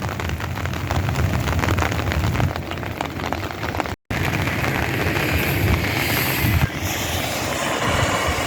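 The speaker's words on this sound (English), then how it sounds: "Just light rain for now." Light rain falls in a continuous, even hiss on wet ground as a tropical storm reaches the desert, broken by one brief dropout, with a faint rumble underneath.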